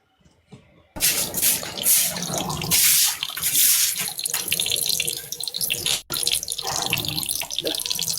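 Water gushes steadily from a household tap in Algeria, a loud continuous splashing that starts abruptly after a second of near silence, with a brief interruption near the end before the flow resumes.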